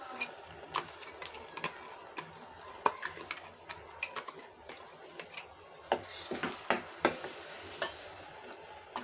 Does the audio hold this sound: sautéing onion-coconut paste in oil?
yes